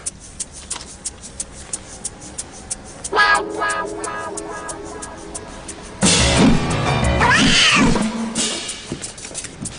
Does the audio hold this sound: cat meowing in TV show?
yes